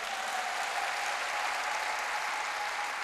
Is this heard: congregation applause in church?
yes